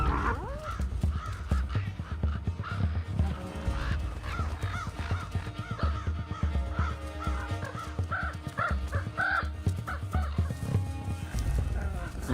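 Crows cawing repeatedly and loudly as they mob wolves at a carcass in the Great Lakes wilderness, a dense, continuous chorus of harsh calls over steady background noise.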